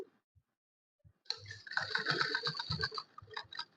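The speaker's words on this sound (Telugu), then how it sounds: "ఈ రాంగ్ సైడ్ వైపునే ఈ విధంగా స్టిచ్ వేసుకుంటూ వస్తాను" Sewing machine stitching a fall onto a zari-bordered saree, starting after a quiet pause with a close, rapid mechanical whir and ticking that runs for a couple of seconds.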